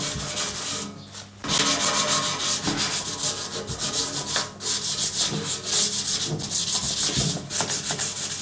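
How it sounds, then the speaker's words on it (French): Wet sanding of a painted frame by hand, loud close rhythmic rubbing strokes that repeat steadily with brief pauses between passes. "on va faire un ponçage à l'eau."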